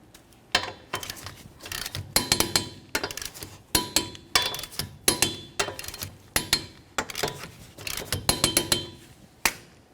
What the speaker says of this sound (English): let's go ahead and torque our lug nuts to 83 foot-pounds in a crisscross manner